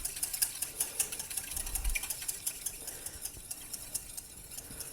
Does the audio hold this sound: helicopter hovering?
no